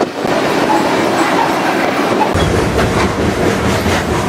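A freight train rumbles steadily along the tracks with a continuous rolling roar and faint clickety-clack of wheels, loud and close throughout.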